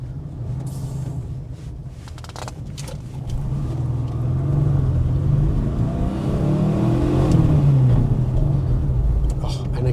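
Porsche 914/4 engine revving up through the gears from inside the car, a steady low rumble that grows louder and rises in pitch as the car accelerates.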